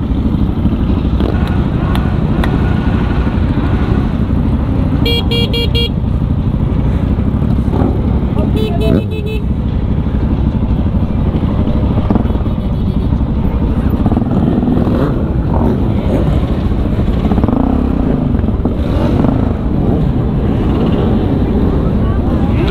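A dense, steady roar of a large group of motorcycles riding together at a Dutch rideout, continuous and loud, with faint voices now and then.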